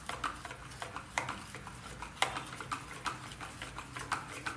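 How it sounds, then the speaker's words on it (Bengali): Baking soda and lemon juice stirred together in a small bowl, a spoon tapping and scraping in a steady rhythm of light clinks, close and fairly quiet, with no talking. "খাবার সোডাটার উপরে আমি এবার দিয়ে দেবো হাফ টিস্পুন লেবুর রস দিয়ে এটাকে আমি ভালো করে মিক্স করে নেব।"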